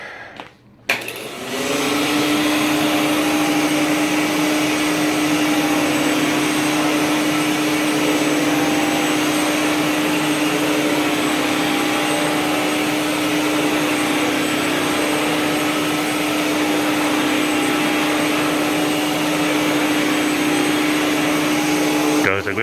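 An IEC Compact Electra C8 vacuum cleaner with a chevron brush roll runs over a rug, giving a loud, steady whine and drone that starts after a short click and holds unbroken to the end.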